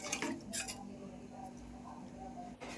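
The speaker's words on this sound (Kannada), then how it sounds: "ಲಿಡ್ ಹಾಕೋಬೇಕು ಫ್ರೆಂಡ್ಸ್." A lid goes onto a cooking pot for tomato bath, producing a few close metallic clinks and rattles at the start over a low steady background hum, with faint talking.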